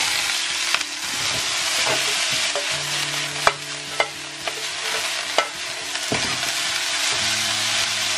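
Shredded potatoes stir-fry in a hot wok with scallion and garlic slices, a steady close sizzle broken by sharp spatula scrapes and clanks against the pan, with no talking.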